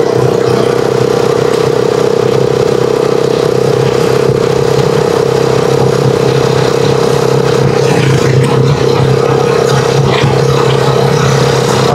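The engine of a Rusi Chariot 175 tuktuk runs loud and close on the road, a steady droning hum with a rattly texture that holds unbroken throughout, with slight surges in pitch.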